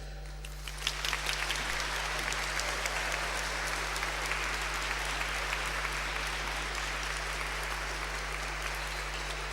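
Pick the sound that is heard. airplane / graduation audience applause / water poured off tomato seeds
graduation audience applause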